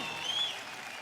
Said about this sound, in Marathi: जोरदार टाळ्या होऊन जाऊ द्या आपल्या ग्रँड मास्टर आणि रेमो सरांसाठी